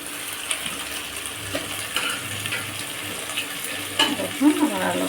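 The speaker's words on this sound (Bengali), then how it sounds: "এই যে আলুগুলো দিয়ে দিলাম। এখন আমি এটাকে নেড়ে দিলে" Potatoes being stirred into frying chicken in a pan, with a soft sizzle under scraping and clinking of the spoon, a few sharper knocks near the end.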